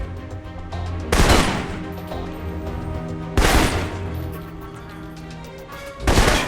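Assault rifle fire in the spy game Alpha Protocol: three loud, close bursts of gunfire spaced a couple of seconds apart over a steady background drone.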